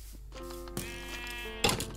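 A sheep in the video game Minecraft gives two or three short bleats, quiet against a faint background.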